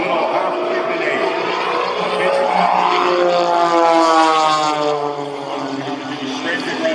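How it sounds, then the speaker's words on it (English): A biplane's propeller engine drones loudly while climbing straight up during an airshow aerobatic routine, a steady sustained roar with shifting pitch as it passes, under a commentator's voice. "Watch Skip take it straight up in that beautiful biplane"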